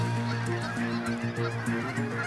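Ross's goose honking in Saskatchewan, a dense chorus of nasal goose calls and honks overlapping continuously and loudly, close by.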